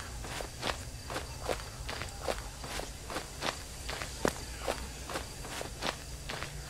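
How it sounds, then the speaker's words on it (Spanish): Quick footsteps, likely running, pace steadily at close range, about two per second, over a low background hum, with no talking. "se escuchan las pisadas de él como muy rápidas"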